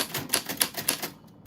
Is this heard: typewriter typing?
yes